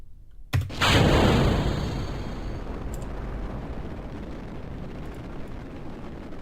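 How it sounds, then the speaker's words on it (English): A rocket in Kerbal Space Program launches on a suborbital flight with a sudden loud ignition burst, then a sustained roaring engine rumble that slowly settles to a steady drone. "Yep, suborbital rocket flight."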